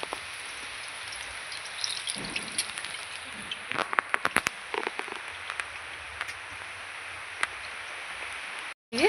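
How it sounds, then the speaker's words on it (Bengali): Rain falling outside on a rainy evening, a steady soft hiss with scattered, sharper drops pattering on a surface, fairly faint and without voices. "বন্ধুরা দেখুন বৃষ্টি এসছে কি"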